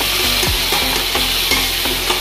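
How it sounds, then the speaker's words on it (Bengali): Chilli paneer masala fried restaurant-style in a pan, with loud, steady sizzling and rhythmic scraping stir strokes repeating every fraction of a second. "তো এবার দিয়ে একটু ভালোভাবে নাড়াচাড়া করতে থাকবো।"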